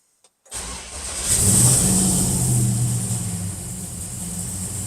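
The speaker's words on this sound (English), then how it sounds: "So I'll crank the car up." A Valiant car engine cranks and catches, then revs up with a rising whine before settling into a steady idle, close by with no talking.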